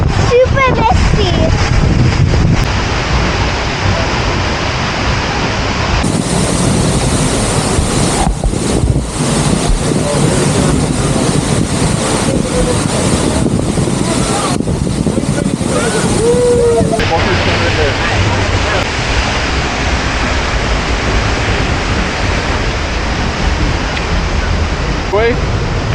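Loud, steady roar of rushing water close behind Seljalandsfoss waterfall in Iceland, with wind buffeting the microphone and voices talking over it.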